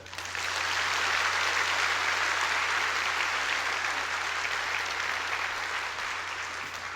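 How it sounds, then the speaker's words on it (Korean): A large audience at a corporate vision ceremony applauds steadily for several seconds, a dense, even roar of clapping that holds strong before easing off slightly at the end. "박수 한번 쳐주실까요?"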